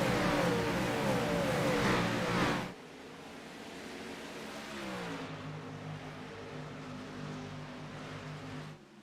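Race cars in a racing video game, an ERSA Pro Series event at Atlanta Motor Speedway, accelerating together at the green flag, a loud engine surge that drops to a steady quieter drone.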